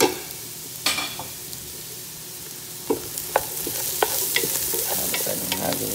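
Thyme, cumin seed and bay leaf stirred in a pot for minestrone soup, with steady scraping and sizzling and a few sharp clinks of the spoon against the pot, close and alone without talk.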